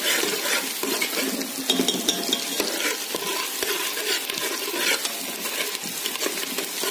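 Onions fry in a pan while moong dal is prepared, with a steady dense sizzle and occasional stirring scrapes and clinks of a utensil against the pan, close and continuous with no talking.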